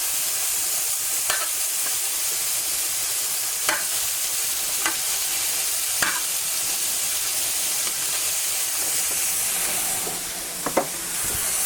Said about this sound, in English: Now we're just going to cook this till the mushrooms get pretty soft.